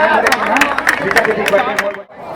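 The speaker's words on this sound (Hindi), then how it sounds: "एक बार जोरदार ताली गोपिका साहू के बारे सम्मान" A crowd claps in honour of Gopika Sahu at the Ujiyar cultural event in Chhattisgarh, sharp claps scattered through steady chatter and a voice speaking on top, fading out near the end.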